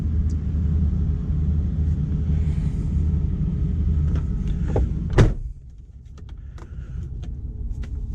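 A 420 car idles steadily after a cold start on a 38-degree morning with about 130,000 miles, giving a low continuous rumble with one sharp clunk partway through, then the idle settling slightly quieter.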